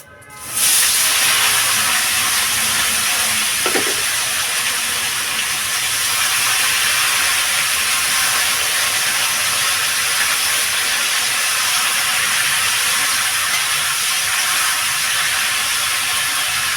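Cut vegetables for a potato and cauliflower curry with gagra fish hit hot oil with cumin and ginger: a sudden loud sizzle bursts in and settles into a steady, strong hiss, with one brief clink and no voices.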